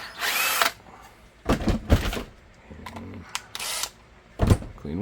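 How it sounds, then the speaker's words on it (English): A handheld power drill drilling into a Ruger 5.7 holster in bursts, with several short loud whirring runs separated by pauses and light handling clatter. "And we're going to drill that."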